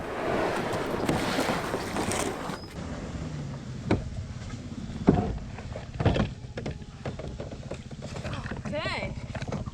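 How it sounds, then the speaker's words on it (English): A kayak is launched and paddled into a quiet cove for a fishing trip, with irregular splashes, knocks and thuds from the hull and paddle under steady wind buffeting the microphone. "it's time to get the kayak in the water and do some fishing"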